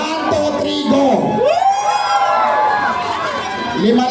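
A dense crowd at the grand opening of a pares restaurant branch in Quezon City shouts and cheers loudly, voices rising and whooping together continuously over several seconds, with a voice briefly over the din.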